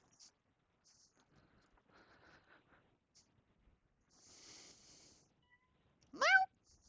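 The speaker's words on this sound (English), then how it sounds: "Did you hear Bandit? He made a little cry" A cat lets out a single short rising cry near the end, loud and close after several seconds of near silence broken by faint ticks and a brief soft hiss.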